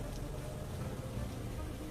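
Steady rain falling, a continuous dense patter with a low rumble underneath.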